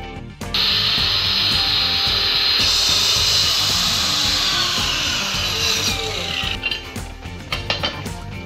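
A power tool cuts tiles at a 45 degree angle in a loud, steady, continuous grinding whine that runs for several seconds, then rattles and eases off toward the end, with no voices.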